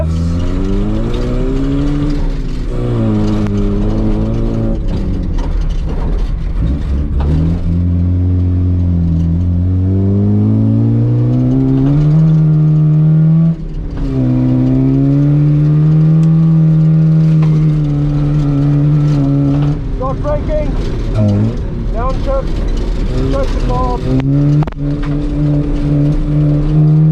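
Toyota KE70 Corolla fitted with a welded differential, engine loud and near, revving hard through repeated rising acceleration pulls with gear changes and brief lifts, sustained over the whole stretch.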